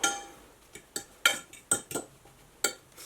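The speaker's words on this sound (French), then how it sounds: "on va mélanger un petit peu" Utensils clink and scrape against a bowl while tuna meatball mixture is stirred, giving a series of short, sharp, close taps at an uneven rhythm with quiet gaps between.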